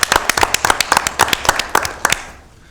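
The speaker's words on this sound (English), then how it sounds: "We can have a round of applause, absolutely." A small round of applause at a Sacramento cable television commission meeting, about a dozen sharp, distinct claps from a few people, fairly close, fading out toward the end.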